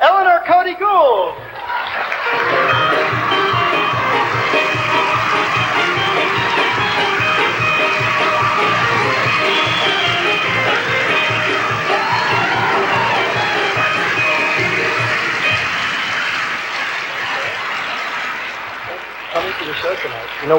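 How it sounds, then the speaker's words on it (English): A live comedy-show crowd at Carnegie Hall in 1980 breaks into sustained applause and cheering. The loud, thick roar builds within two seconds, holds for about seventeen seconds with voices and laughter mixed in, then drops away. "So let's bring her out with a rousing applause, Eleanor Cody Gould!"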